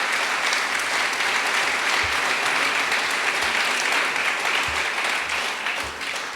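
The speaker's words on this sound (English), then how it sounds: "Give him another round of applause." A crowd applauds steadily at a grand opening of a housing tower, loud sustained clapping with no break, fading slightly at the end.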